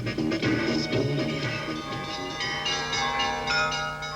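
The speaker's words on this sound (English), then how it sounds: "hear the bells of St. Basil's Cathedral ringing out over Red Square" Large cathedral bells of St. Basil's on Red Square, Moscow, peal continuously and loudly, overlapping strikes forming a dense, ringing wash with no pauses.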